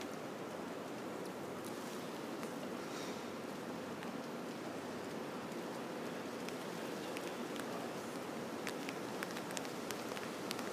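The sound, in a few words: rain band during Hurricane Irma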